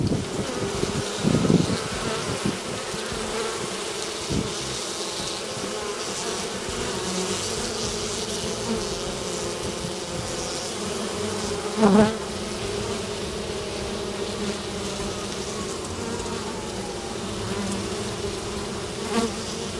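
Honeybees fan oxalic acid vapor out of their hive entrance, a steady close-up buzz of many wings that holds throughout, with a brief louder swell near the middle.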